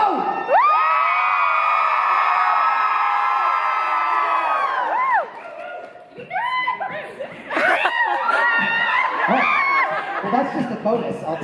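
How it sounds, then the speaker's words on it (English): A convention audience cheers and whoops loudly with high sustained shouts from many voices at a fan Q&A, briefly dipping before breaking into laughter and more scattered cheering. "ask you guys to cheer."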